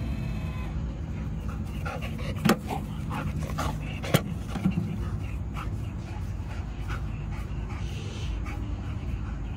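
A dog gives a few short woofs and pants against a steady noisy indoor background, with a couple of sharp louder barks standing out briefly.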